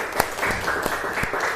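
A brief burst of applause from students in an Indonesian classroom, a short patter of hand claps with a few sharper slaps standing out.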